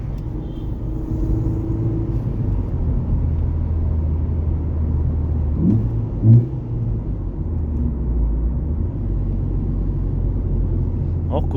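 A modified Ford Focus fitted with two throttle bodies, heard from inside while driving on the street: a steady engine rumble with the throttle lifted and fuel cutoff active, with a brief rise in revs near the middle.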